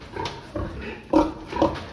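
Piglets on a pig farm squealing and grunting in short bursts during vaccination, several loud close squeals spaced irregularly over a farm background.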